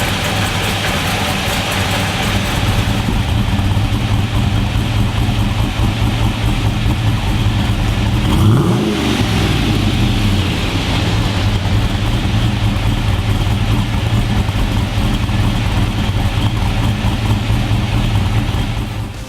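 An LS V8 fitted with a 233 square-pattern camshaft idles with a loud, steady low rumble, then gives a single short rev partway through before settling back to idle.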